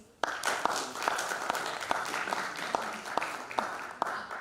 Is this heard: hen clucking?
no